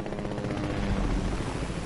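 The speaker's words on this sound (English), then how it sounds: "Get in the helicopter! Get in the helicopter!" A video game helicopter gives off a loud, dense rotor roar with a rapid throbbing beat, steady and close throughout the short stretch.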